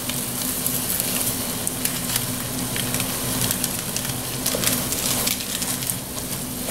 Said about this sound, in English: And just stir that in there.